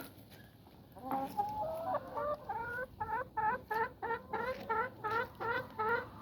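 Chickens and a rooster cluck in a steady, rhythmic series of short calls, close by and fairly loud, with the clucks growing quicker and more regular.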